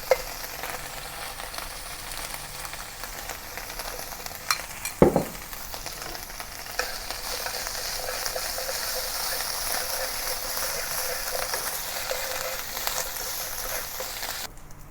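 Ground beef stir-frying in a pan with oyster sauce and Sichuan chili oil, a steady close sizzle with stirring and scraping throughout, with one sharp clatter early on.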